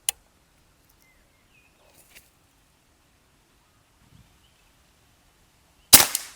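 A single sharp air rifle shot cracks near the end during an accuracy test, after a mostly quiet stretch with a faint click at the start and small background rustles.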